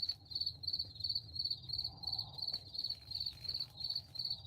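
Crickets chirp at night in close, regular pulsing trills that repeat evenly throughout, with no voices over them.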